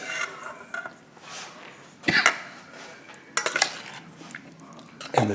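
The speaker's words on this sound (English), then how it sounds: "it's time to get everything in the bowl." Salad ingredients for a salmon ceviche-style salad tumble and clatter into a bowl, with a few sharp clinks of utensil against dish standing out over a soft, steady background of kitchen handling.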